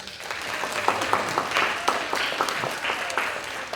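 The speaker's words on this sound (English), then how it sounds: "I would like to have a round of applause for Lulu" An audience claps steadily throughout, a dense patter of many hands applauding without pause.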